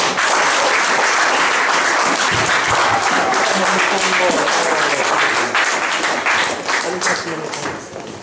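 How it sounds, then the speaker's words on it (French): A church congregation at a New Year service applauds loudly and continuously, a dense wash of clapping with scattered cheers that tapers off slightly at the end. "Est-ce que vous pouvez acclamer pour vous-même?"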